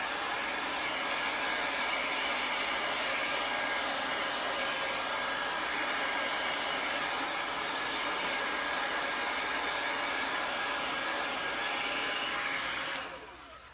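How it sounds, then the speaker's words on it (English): An old blow dryer roars steadily and loudly at close range while drying a wood craft project, a constant whooshing hiss that holds for the whole stretch before tapering off at the end. "Got out the old blow dryer to help with the drying process."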